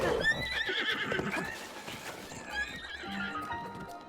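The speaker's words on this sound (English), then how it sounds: "That was a very convenient horse." A horse in Zelda: Breath of the Wild neighs loudly up close while its hooves clip-clop in quick rhythm, a short burst of whinny and trotting with no talk.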